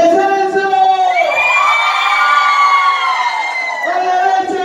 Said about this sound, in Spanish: usted levanta las manos y grita porque vamos bajando